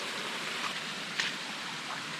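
Spring-fed water runs outdoors in Killarney in October, a steady, even rushing hiss with a few faint splashes over about two seconds, no voices.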